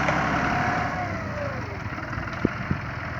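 Small farm tractor engine idling steadily up close, a continuous low mechanical rumble with a couple of brief sharp knocks near the end.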